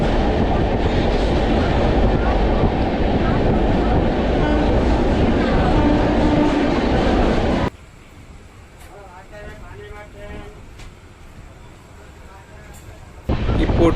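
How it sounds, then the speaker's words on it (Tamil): Passenger train 12685, Chennai Central to Calicut, rolls into Morappur Junction at night. A loud rumbling rush gives way to quieter rattling from inside the carriage, and then the roar swells again briefly at the end. "இப்போ ட்ரெயின் உள்ளே என்ட்ராவது தான் பார்த்தீங்கன்னா மொரப்பூர் ஜங்ஷன்"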